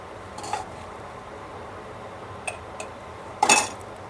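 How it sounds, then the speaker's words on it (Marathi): Murabba is packed into a glass jar, giving a few faint, sparse clinks and taps of glass in a quiet room, the last one louder than the others. "हे असं काचेच्या बरणीत आपण याला व्यवस्थित असं पॅक करून ठेवू शकतो"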